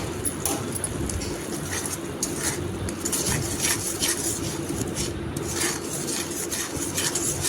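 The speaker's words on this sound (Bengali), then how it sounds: "আর একটু গরম জল দিয়ে মশলাগুলো কষিয়ে নিচ্ছি" Metal spoon scraping and knocking against a pan while spices are stirred and sautéed with a splash of hot water, a steady busy clatter close by with no voices.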